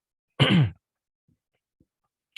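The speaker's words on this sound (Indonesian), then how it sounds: "sorry teman-teman saya batuk-batuk." A single short cough or throat-clear comes close to the microphone, followed by near silence with a few faint clicks.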